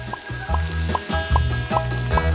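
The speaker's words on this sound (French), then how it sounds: "Il faut chauffer l'huile et faire frire les tortillas tranchées jusqu'à ce qu'elles soient dorées." Sliced tortillas fry in hot oil, giving a steady close sizzle with a repeating bubbling pulse about every half second. There is no talking.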